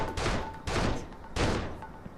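Gunfire in the video game Urban Chaos: Riot Response, three heavy broadband bursts roughly half a second apart, each with a booming low end and a fading tail, fairly loud with no talk over them.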